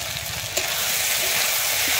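Drumstick flowers fry in a pan with a steady, dense sizzle, broken by a few faint clinks of stirring and no voices.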